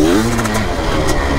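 A loud, close motocross motorcycle engine, a Honda CR500 or CRF450R, roars continuously with a rough, throaty tone, and a voice is partly mixed in.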